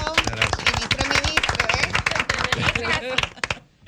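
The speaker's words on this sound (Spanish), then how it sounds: "Vamos a recibirlo con un aplauso" Studio audience applause welcomes the Minister of Environment: a steady, dense patter of clapping lasting several seconds, mixed with voices, then fading out at the end.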